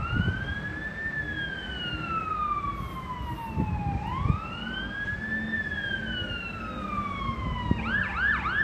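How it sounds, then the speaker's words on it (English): Ambulance and fire truck sirens wail through a Toronto snowstorm, sweeping slowly up and down before switching to a rapid yelp near the end, fairly close and loud over street rumble. "Here now the ambulance, the fire truck is coming."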